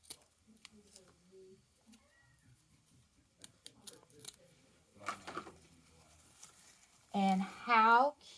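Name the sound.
scissors trimming ribbon tails on Peep wreath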